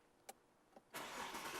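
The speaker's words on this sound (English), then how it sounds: "Your fingerprint's already in here, and it fires the car right up." A car engine is started by fingerprint ignition. A couple of faint clicks come first, then the engine catches and settles into a steady, fairly loud running roar.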